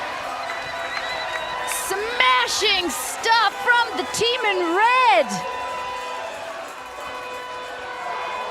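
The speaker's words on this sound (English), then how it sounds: "The crowd goes absolutely wild, as they should." Spectators roar and whoop at a women's junior ultimate frisbee semifinal between France and Japan at the World Junior Championships, a loud crowd swell running under an excited commentator's voice.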